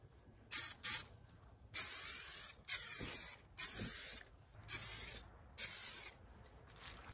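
Repeated short aerosol spray bursts coat plastic car interior parts, about seven close, loud hissing blasts of varying length separated by brief pauses, with no talking.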